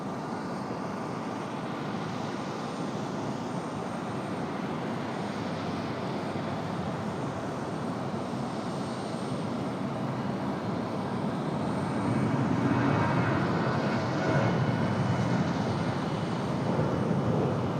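A Breeze Airways airliner arriving from San Diego at Raleigh-Durham airport gives off a steady, broad jet roar at moderate distance, holding constant and swelling slightly louder toward the end.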